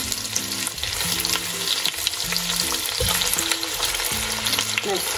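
Rabbit pieces brown in a frying pan with a loud, continuous sizzle and crackle, close up, with faint background tones beneath.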